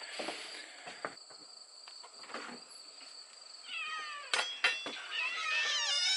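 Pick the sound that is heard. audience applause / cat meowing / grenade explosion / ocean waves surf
cat meowing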